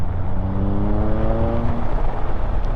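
A 2019 Triumph Speed Triple RS motorcycle engine answers the throttle with a steady, loud drone whose pitch climbs and then settles, running continuously from close range with no voices.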